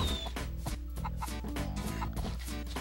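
Chickens cluck over a steady game soundtrack with a dense, rhythmic backing beat in the video game Mort the Chicken, the clucks running continuously without talk.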